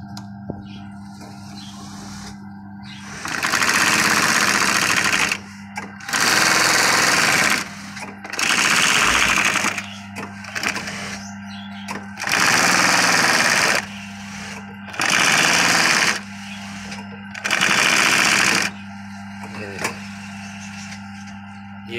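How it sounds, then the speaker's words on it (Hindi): A sewing machine stitching a cap runs in short loud bursts of rapid clattering, about eight runs separated by brief pauses, with a faint hum between them. "ये अब यहाँ सिलाई लगेगा"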